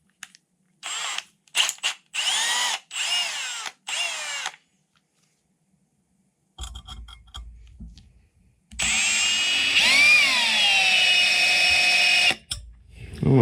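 A handheld power drill works a wobbly bit into stainless steel, giving short repeated bursts of whine. After a pause comes a longer, steady, loud drilling run with a rising pitch, and there is almost no talk.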